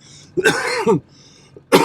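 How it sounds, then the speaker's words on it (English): Two rough coughs sound up close, a short pause between them, with quiet room noise in the background. "There's a cough to start it off"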